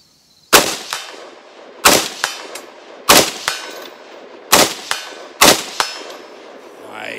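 Rifle fired with iron sights at steel targets on a range: five sharp reports spaced about a second apart, each followed by a distinct metallic clang of the hit, loud and close.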